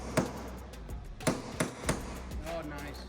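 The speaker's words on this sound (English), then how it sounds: "We are switching back to the hammers, knocking and releasing more of the buckles underneath the edge." Hammers knocking buckles out of a car body panel, a handful of sharp metallic blows at irregular intervals, close and clear against a steady background hum.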